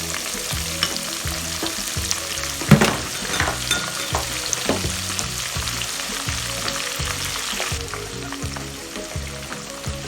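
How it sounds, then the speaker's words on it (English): Onions frying in reused oil for Ghanaian waakye stew, a loud, dense sizzle with stirring scrapes and a sharp splattering burst early on, steady throughout under background music, with no one speaking. "So I'm using the same oil for my stew. So I'm going to add the onions to it."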